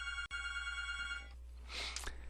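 An office telephone rings with a steady electronic tone that cuts off partway through, followed by a brief scuffling clatter nearby, heard alone without talk.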